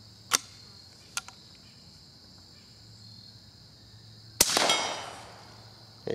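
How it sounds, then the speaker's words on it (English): A .22 Short rifle fires outdoors across water: two faint sharp cracks early on, then a louder snap followed by a brief ringing metallic tink as a bullet skips and strikes a distant steel plate, with quiet insect-like hiss between. "you can hear it tinking off that plate of steel over there"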